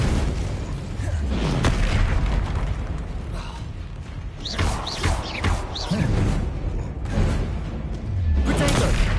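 Fire spell blasts in the Hogwarts Legacy video game: loud booming bursts and whooshes repeat through a dense, continuous wash of combat noise, with several strong hits spread across the stretch.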